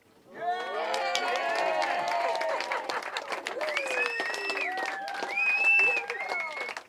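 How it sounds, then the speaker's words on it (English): Wedding guests applaud the flower girls in a burst of clapping, moderately loud, beneath voices and cheers. "there needs to be a round of applause for the Flower Girls"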